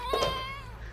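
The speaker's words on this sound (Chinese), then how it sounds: "小猫一样叫" A single short, high-pitched cat meow, fairly close and clear, rising and then trailing off within a second.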